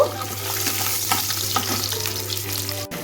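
Garlic cloves frying in a little oil in a kadai after prawns were fried, a close, dense sizzle with stirring scrapes and a sharp knock near the end, no talking.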